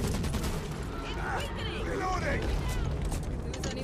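Rapid bursts of video game gunfire crackle steadily throughout, mixed with explosion-like rumble, while players talk over the shooting.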